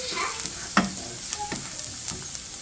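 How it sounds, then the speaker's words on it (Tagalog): Garlic sautéing in chili oil in a pan, a steady close sizzle and crackle with occasional scrapes and stirs, no voices. "habang ginigisa natin yung bawang, lagyan natin ng additional sili oil"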